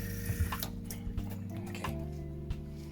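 Raw fish rinsed under cold tap water while making fish soup, a steady trickle and drip of running water with small splashes and clinks throughout, no talking.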